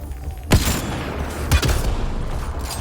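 A grenade goes off in the sci-fi shooter Mass Effect: Andromeda, with two sharp, booming blasts about a second apart over continuous rattling gunfire and combat noise, loud and close.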